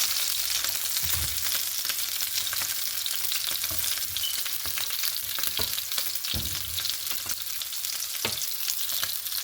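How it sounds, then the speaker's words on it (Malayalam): Chicken pieces deep-fry in a pan of hot oil, giving a continuous close crackling hiss broken by a few heavier bubbling bursts and scrapes as pieces are moved. "അങ്ങനെ ചിക്കനെല്ലാം വറുത്ത് കോരി."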